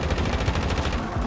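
Rapid automatic gunfire from the shooter game Warzone, a dense, sustained burst of shots that stays loud and continuous from start to end with no voices.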